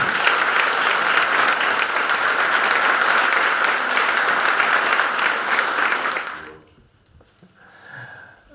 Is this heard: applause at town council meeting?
yes